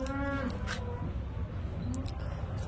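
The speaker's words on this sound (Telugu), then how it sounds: "ఆవులు ఉన్నాయి ఈడ." Cows at a cattle market selling Punganur cattle and bulls moo in drawn-out calls, a loud one at the start and another near the end, over steady crowd and livestock bustle.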